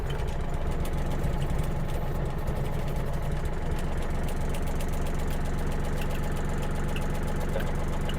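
A Yanmar AF-28 mini tractor engine idles steadily nearby, a continuous low rumbling chug with a slight knock that holds even throughout, with no talking.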